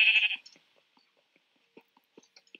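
A sheep bleats once, loud and short, in a Minecraft-style video game, followed by faint scattered clicks and soft game sounds.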